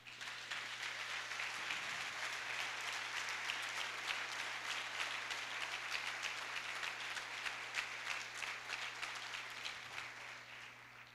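A church congregation applauds during a worship service, a continuous even roar of many hands clapping at a moderate distance, with a low steady hum underneath.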